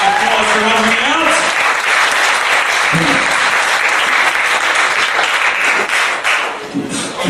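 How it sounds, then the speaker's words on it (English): An audience claps and applauds loudly and steadily for several seconds, with a few voices faintly audible beneath the clapping. "Please give them a big round of applause for helping me out."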